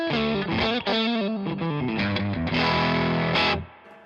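Electric guitar played through a Bluesman overdrive pedal, a crunchy, mildly distorted run of picked notes and chords that ends on a ringing strum, loud and close with no talking.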